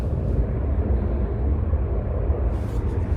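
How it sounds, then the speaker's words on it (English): Airplane at Sydney airport heard as a steady, broad rumbling roar that holds evenly throughout, moderately loud and somewhat distant, with no talking over it. "That's the sound of an airplane."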